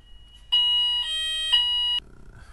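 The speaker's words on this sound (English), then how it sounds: "Sorry, fire alarm." A fire alarm sounds in a quiet room with three loud, piercing electronic tones, each about half a second long, back to back, then it cuts off abruptly.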